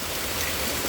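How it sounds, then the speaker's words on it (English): Heavy rain pours steadily at the start of a long night of storms in Pittsburg, Kansas, a dense, even hiss of drops with no voices. "That rain is getting heavy though."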